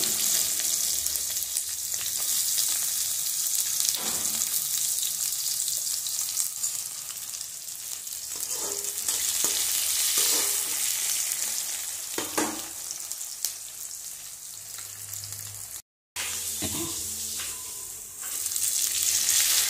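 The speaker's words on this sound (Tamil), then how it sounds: "வெங்காயம் வதங்கிடுச்சு." Small chopped shallots frying in a pan with fenugreek powder, dried chillies and curry leaves for Tamil mochai theeyal, a steady close sizzle with occasional stirring scrapes, one brief dropout near the end.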